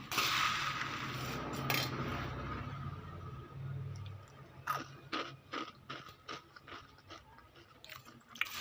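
Someone chews a mouthful of crunchy kara boondi snack up close, a run of crisp crunching bites that is denser at first and then breaks into separate crackles.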